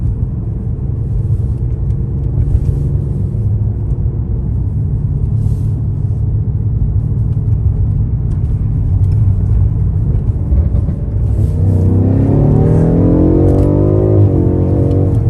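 Heard from inside the cabin, a car in Sport Plus mode with xDrive all-wheel drive gives off a loud, steady engine rumble. Near the end the engine note climbs sharply as it accelerates hard, and no one speaks.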